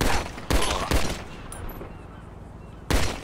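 Gunfire in the GTA 5 video game, a few loud close shots in quick succession at the start and another near the end, with quieter game noise between.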